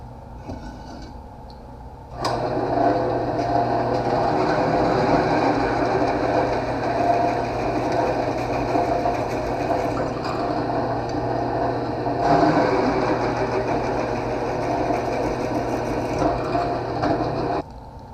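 A drill press motor starts abruptly and runs with a steady hum and whir, slight changes in pitch midway, then cuts off near the end.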